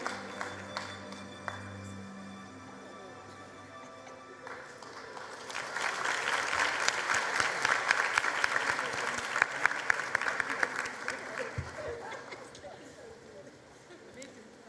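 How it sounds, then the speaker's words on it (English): An audience at a matric results announcement ceremony breaks into applause, quiet at first and then swelling into sustained, dense clapping for several seconds before tapering off, with faint talk underneath. "Can we please give her a round of applause?"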